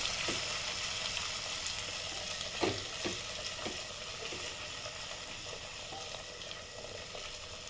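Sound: onion sautéing in a pan over low flame

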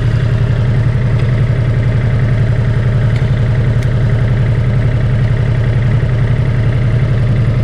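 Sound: Ducati Multistrada motorcycle engine idling, warming up

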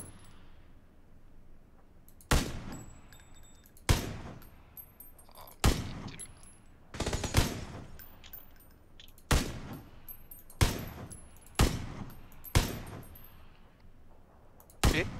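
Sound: gunfire in a battle royale video game

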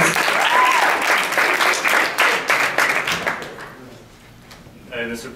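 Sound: audience applause for improv scene

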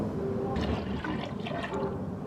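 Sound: water poured into pot of rice for palm payesh

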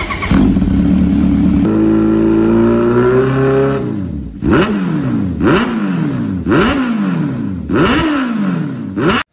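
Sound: inline four-cylinder superbike engine revving, Kawasaki Ninja H2R style

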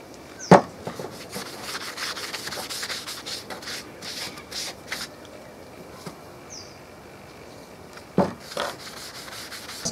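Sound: rubbing brown dye onto leather bracer

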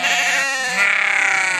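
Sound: Katahdin sheep bleating

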